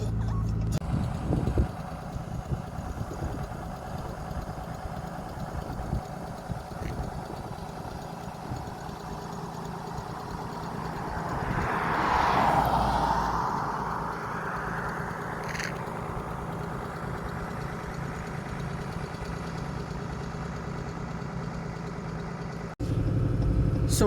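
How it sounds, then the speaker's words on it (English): A truck engine runs on fast idle to cool down, a steady low drone throughout, with a brief swell midway and a clunk near the end. "I've got it on a fast idle so it can cool down."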